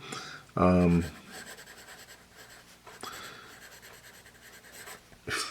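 A Cretacolor Monolith 2B graphite pencil scratches across paper while drawing, with a loud, close stroke near the start, then fainter scraping and a sharp scratch just before the end.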